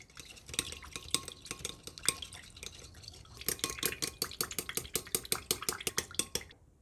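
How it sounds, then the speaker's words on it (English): A homemade hand sanitizer mixture with vitamin E and tea tree oil is stirred in a container, making rapid, sharp clinks and taps of a utensil that grow quicker and denser toward the end, with no voices. "so now we're going to mix until combined"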